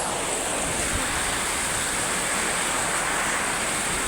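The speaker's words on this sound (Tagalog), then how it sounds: "Grabe po yung buhos." A heavy rain downpour roars as a dense, constant hiss with no break or change over four seconds, loud and enveloping, with a low rumbling wash beneath it and no voices.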